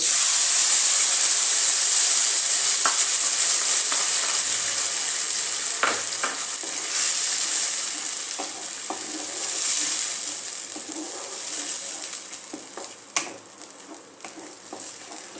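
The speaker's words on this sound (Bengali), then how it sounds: "এর মধ্যে আমি যে টমেটোটা পেস্ট করে রেখেছি টমেটো শুকনো লঙ্কাটা এই টমেটো পেস্টটা দিয়ে" Mushrooms sizzle steadily in a pan with tomato paste and dried chili, a bright continuous frying hiss with occasional soft stirring clicks and pops, near and constant, no voices.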